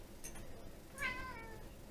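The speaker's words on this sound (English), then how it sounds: "You guys heard the cat." A house cat named Felix meows once, a short rising call in a quiet kitchen, with faint background noise and a brief soft sound just before.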